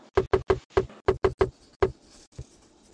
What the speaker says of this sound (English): Knock the chest piece into place with the rubber mallet.